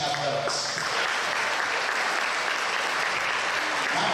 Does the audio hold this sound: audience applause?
yes